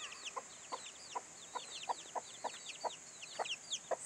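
Baby chickens cheep in quick, high chirps repeated in a busy rhythm, with soft clucks mixed in, close and fairly faint, with no talking.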